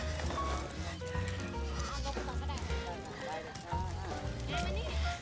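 Goats bleating at a farm where young kids are bottle-fed milk, repeated calls mixed with steady background noise and ongoing talk from people nearby.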